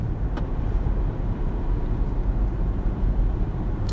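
A Ford Mustang Mach-E GT electric car accelerates on a test track, heard from inside as a steady low rumble of road and wind noise, fairly loud with no speech.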